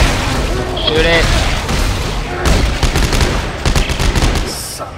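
Gunfire in Dead Space 3 comes as dense, rapid bursts of shots and booms, loud and close, with a voice talking over the first part and sharp reports continuing to the end.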